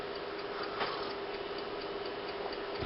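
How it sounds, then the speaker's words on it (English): Faint, regular ticking of a clock over a steady background hiss, evenly paced and continuous. "hear the clock ticking away"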